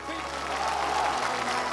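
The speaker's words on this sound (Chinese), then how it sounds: "让我们掌声欢迎从航天" Live studio audience at a Spring Festival Gala broadcast applauds steadily, a dense wash of clapping from a large crowd, continuous through the whole moment under an announcer's voice.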